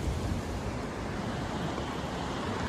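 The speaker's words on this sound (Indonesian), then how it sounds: "cuacanya hujan, kabut, angin" Steady broadband wind and rain rush on Mount Burangrang in fog and drizzle, a dense, even roar filling the scene with no breaks or distinct drops and no voices.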